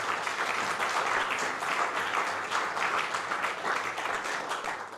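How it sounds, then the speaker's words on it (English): An awards ceremony audience at the Abergele Community Awards keeps up a continuous, even round of applause, moderately loud throughout with no talking. "Give yourselves a round of applause."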